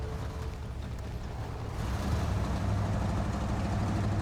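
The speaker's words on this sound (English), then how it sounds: "That engine upgrade really makes a difference on this truck." Upgraded Ford F750 truck engine in a driving video game, crossing icy terrain: a deep, steady rumble that swells louder about halfway through and holds there, with no talking.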